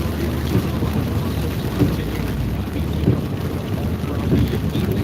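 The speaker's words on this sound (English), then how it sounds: "Lots of wind out here today." Strong wind buffets the microphone outdoors during an Iowa storm chase ahead of a tornado-warned cell, a steady loud low rumble with gusts swelling and fading throughout, no voices.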